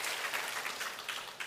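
Church congregation applause during a Sunday service, a brief patter of scattered clapping at moderate distance, fairly soft.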